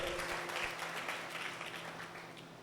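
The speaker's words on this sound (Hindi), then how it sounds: "उसके लिए भी जोरदार तालियां बता दो" Audience at an academy seminar in Haryana claps together in steady, moderately loud applause, fading slightly over its few seconds, with a faint hum underneath.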